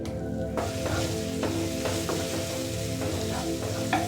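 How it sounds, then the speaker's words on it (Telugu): Onions and ginger garlic paste sizzle steadily in a hot pan for an aloo tomato curry, with a spoon scraping and stirring in repeated strokes throughout, close and fairly loud. "ఈ అల్లం పచ్చివాసన పోయేంత వరకు కలుపుకుందాం"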